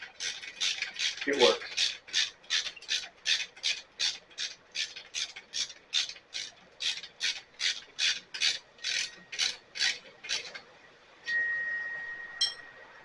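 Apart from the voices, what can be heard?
tightening the handle of a VEVOR hose reel cart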